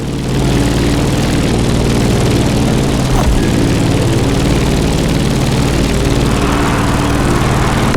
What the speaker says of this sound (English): Let's start our descent and get ready for the landing.